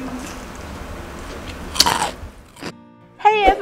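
Bites into super crunchy, golden Indonesian-style sweet corn and shrimp fritters give a couple of close, sharp crunches against a steady background, and a voice briefly starts talking at the end.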